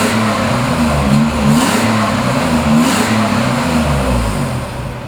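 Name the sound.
1985 Nissan 300 ZX engine revving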